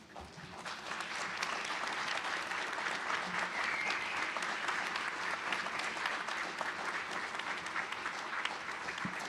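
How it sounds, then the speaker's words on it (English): Sustained applause from a standing crowd of faculty, staff, family and friends at a spring university commencement ceremony, a dense steady roar of clapping that holds evenly for the full stretch. "Please stand and give them a round of applause."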